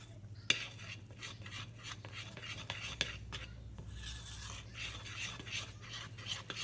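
A utensil stirs sourdough starter and flour in a jar, with soft scraping and light taps against the glass, quiet and close with no talking.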